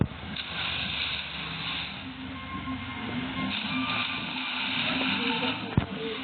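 A boat cruises across the water in the video game Blox Fruits, giving a steady, fairly loud engine-and-water rumble that runs continuously with little change.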